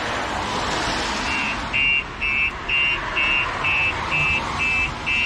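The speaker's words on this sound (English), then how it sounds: "You can hear the alarm going off." A StarLine S9 alarm sounding on a Toyota C-HR GR Sport 2023, a loud electronic beeping pulsed in a steady repeating rhythm of about eight tones over a low background hum.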